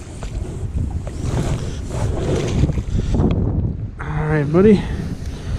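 Steady wind rushes and buffets the microphone outdoors near water while bass fishing in cold weather, with someone speaking briefly over it.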